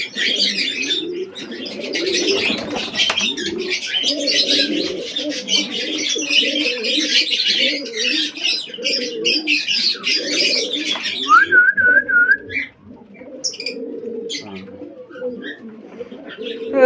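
Pigeons in a loft coo in low, throaty, repeated murmurs under a dense background of chirping, with a brief higher whistle-like call partway through.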